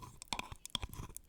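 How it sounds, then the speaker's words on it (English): Crunchy, gritty scraping of paint mixed with real sand being dug into and scooped close to the microphone, a quick irregular series of rough crackles. "when I dig in to grab some, you can, I'm going to put it here next to the microphone so you could hear the sound. There's actual sand in there."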